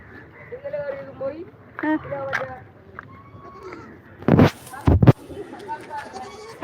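Goats bleat a few times amid people talking nearby, followed by two sharp loud bursts of noise.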